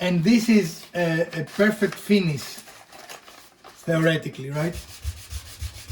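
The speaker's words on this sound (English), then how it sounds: "doing a very, very fine sanding without generating a lot of dust and without damaging the surface" A kitchen cabinet gets very fine hand sanding with a piece of paper bag laid over the sanding block. Soft, low rubbing strokes sit mostly under ongoing speech and come through briefly during a pause.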